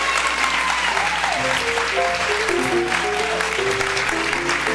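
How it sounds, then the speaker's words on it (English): Gala dinner audience applauding the incoming gala chairman, continuous clapping throughout with sustained tonal background music or voices running underneath. "join me in a round of applause for Skip Schreier"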